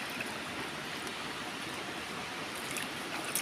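A flowing stream in barangay Kalaitan gives a steady broadband rush of water, constant and moderately close with no pauses.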